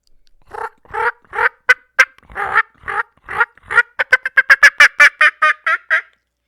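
A diaphragm mouth call imitates a turkey: a run of loud, raspy yelps at a steady pace, then a quicker, tighter series of sharp yelps. It is close and clear, with no talking.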